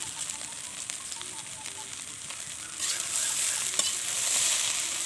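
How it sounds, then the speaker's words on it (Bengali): Pasta with Maggi masala fries in a pan while being stirred, with a soft crackling sizzle and scraping strokes that grow louder and more active partway through, heard up close. "এখন আমি এটাকে আরও একটু নেড়ে ছেড়ে নেব।"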